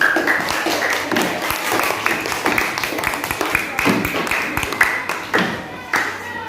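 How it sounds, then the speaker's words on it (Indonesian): A classroom group of children claps together in a quick, uneven patter of many hands, loud and close, with voices mixed in throughout. "Oke, kelompok 3 tepuk tangan dulu"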